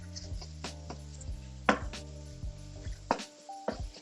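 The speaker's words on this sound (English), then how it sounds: "so just kind of break this sausage up" Sausage broken up in a pan with a utensil, a handful of distinct sharp taps and scrapes against the cookware, close and fairly quiet, no talk.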